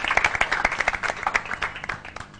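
A short burst of audience clapping on a French celebrity game show, a handful of distinct, uneven claps, fairly close and quickly thinning out, with no speech.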